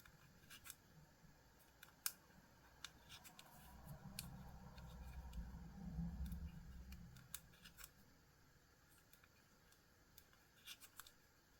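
Scissors snip crochet yarn, with several sharp, quiet close-up clicks scattered throughout and a soft rustle of handling in between.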